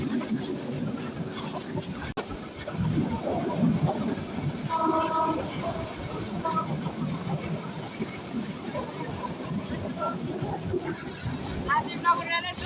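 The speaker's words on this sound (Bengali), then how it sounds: "প্রচুর সাউন্ড, যেহেতু এটা মিটার গেজ, তার জন্য বেশি সাউন্ড হচ্ছে।" The Lalmoni Express, a metre-gauge train running from Natore to Dhaka, clatters along in a loud, continuous rolling rattle heard from inside. Wheel clicks and brief tonal hoots rise through the din.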